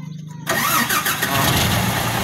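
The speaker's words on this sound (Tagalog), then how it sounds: "andarin ko lang saglit yung truck" A truck engine cranks briefly after a quiet moment and catches, settling into a loud, close, steady running rumble for the rest of the clip.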